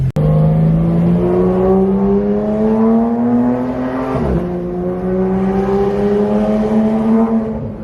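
Porsche GT3 RS under a hard full-throttle acceleration pull, its exhaust howl climbing steadily in pitch, a quick gear change midway and then climbing again, loud and close, no talking.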